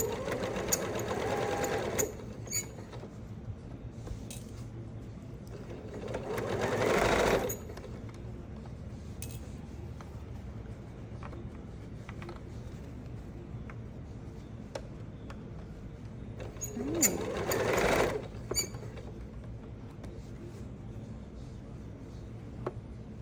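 A sewing machine stitches along a fabric edge for a fabric bowl, in short close whirring bursts separated by a quiet hum and faint handling sounds.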